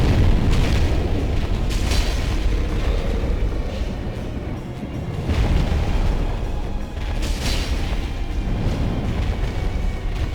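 Heavy booming blasts from a magic attack in Dark Souls roll out in a loud, continuous wash. The noise swells and dips in waves, with no talking.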